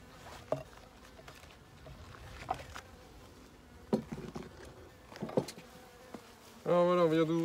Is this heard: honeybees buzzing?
yes